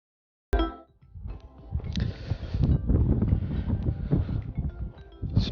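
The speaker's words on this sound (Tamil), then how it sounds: "ஸ்னோ கொட்டுறது பத்தாதுன்னு பயங்கரமாக காற்று வேறு அடிக்குது" Strong wind blows during a heavy snowstorm in Germany, buffeting the microphone with loud, gusting roar that rises after a sudden start and stays rough and forceful throughout, without speech.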